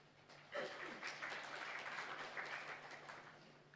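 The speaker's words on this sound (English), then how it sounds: "I just wanted to request for applause, but then you have given him that already" An audience at a live opening ceremony in Nepal applauds, a dense, even wash of clapping that starts suddenly and keeps going at moderate loudness, heard from a distance across the room.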